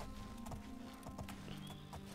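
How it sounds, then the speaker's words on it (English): In The Elder Scrolls IV: Oblivion, a horse's hooves clop in a quick irregular series over a constant game ambience, with a brief neigh rising partway through, all fairly faint. "Okay, horse, stay here."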